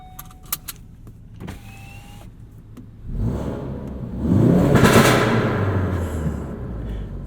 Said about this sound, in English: And you can hear the exhaust.